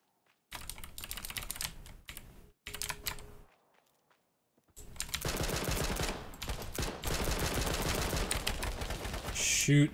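Rapid gunfire from an H1Z1 battle royale match crackles in dense bursts, broken by short gaps, then runs almost continuously, sharp and close, with keyboard clatter mixed in.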